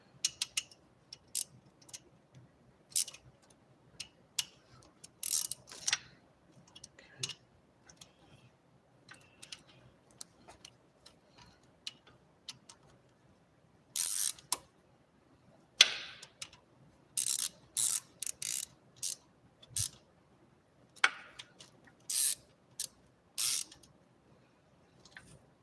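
A hand ratchet snugs bolts during an engine valve adjustment, giving bursts of rapid, sharp close-up clicks separated by quiet pauses. The clicking grows denser toward the end, with no voices.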